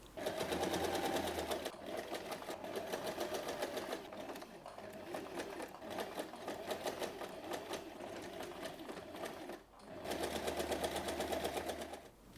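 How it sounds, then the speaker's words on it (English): A sewing machine stitches a reinforcing box with an X across a tote bag strap in rapid, close bursts of needle clatter, with short pauses between runs and a soft voice faintly underneath. "we sew the strap down securely for an extra strength. Stitch a box with an X inside."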